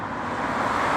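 A Porsche Carrera 4S passes by at a carspotting outing, giving a brief, steady broadband road roar that holds a constant level for about a second.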